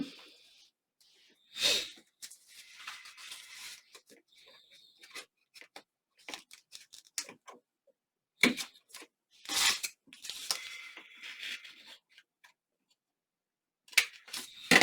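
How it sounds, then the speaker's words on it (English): Scissors cut a small edge off a paper junk journal cover, with several short snips and rustles of paper close by, separated by quiet pauses. "I got to cut that little bit of edge off where I done the corner around"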